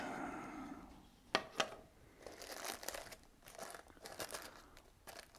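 A plastic bag holding moist, dark Perique pipe tobacco is opened up close, giving quiet, irregular crinkling with a couple of sharper crackles and then steady rustling.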